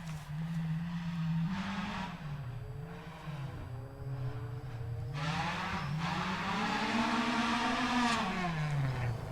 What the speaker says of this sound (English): This car number 28 comes to us now, a Ford Escort with Anthony Jones and Tania Gwynn.